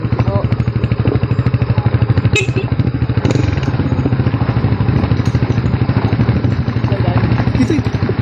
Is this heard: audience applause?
no